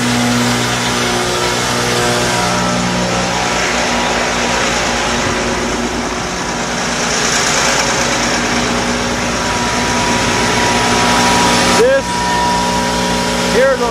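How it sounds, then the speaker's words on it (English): A shaft-driven PTO blower on a truck unloading flour runs with a steady loud mechanical drone and whine, someone talking over it throughout, brief squeaks near the end. "It's shaft driven, PTO. Basically like an air compressor, it'll blow air."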